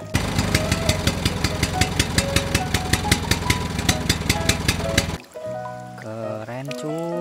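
A toy Bajaj motor vehicle gives off a fast, steady, rhythmic buzzing engine loop, close and fairly loud, for about five seconds. It then cuts off abruptly and a short electronic tune follows.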